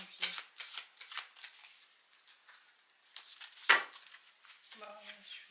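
Tarot cards being shuffled by hand, a series of close, soft riffling bursts with pauses between them and a brief murmured voice.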